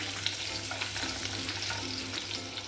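Two cloves of garlic fry in a pan for a bottle gourd curry while being stirred, giving a soft, steady sizzle with light scraping taps, fairly quiet and with no talking.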